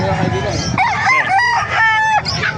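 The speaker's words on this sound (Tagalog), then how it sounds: "May ganda White Kelso." A White Kelso rooster at a poultry gathering in Calumpit, Bulacan, gives a loud, close crow with a rising and falling call, set against a busy background of other fowl and voices.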